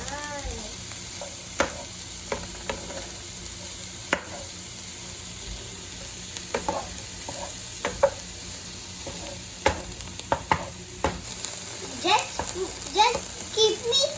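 Omelette mixture stirred in a hot pan, a steady sizzle broken by scraping taps of the utensil, while someone talks over it and other voices chatter.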